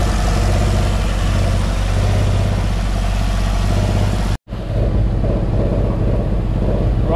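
A car engine running on 98 fuel idles steadily with a low, throbbing pulse, loud and close, broken by a brief cut before resuming the same rough idle.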